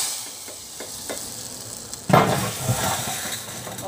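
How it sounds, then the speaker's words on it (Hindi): A sudden loud sizzle as hot oil tempering hits masoor dal in a pot, crackling and hissing strongly before settling into a quieter bubbling fizz. "अभी तड़के को डाल देंगे इसमें।"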